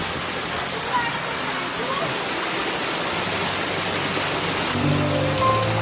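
Loud, continuous roar of floodwater pouring heavily through a village during torrential rain in Konkan, like a waterfall, broad and steady throughout with no pauses.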